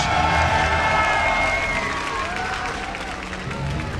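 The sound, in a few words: crowd cheering and applauding at StarCraft 2 tournament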